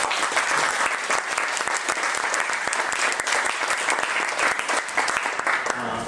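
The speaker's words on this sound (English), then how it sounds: "Please give applause to them for all the credit." An audience applauds a team after a presentation, with sustained, dense clapping that stays loud and even throughout.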